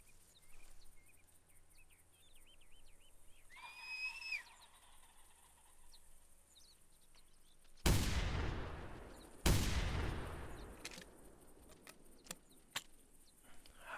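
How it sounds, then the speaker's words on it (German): Two sharp, loud hunting rifle shots crack about a second and a half apart in theHunter while pheasants are hunted, each trailing off in a brief echo over quiet outdoor ambience with birdsong. "Also dann schießen wir noch einmal."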